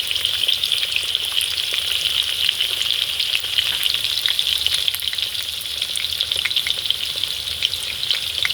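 Chicken with turmeric fries in a pan for a Bengali chicken and potato curry, giving a continuous close sizzle with scattered stirring clicks throughout, no talking.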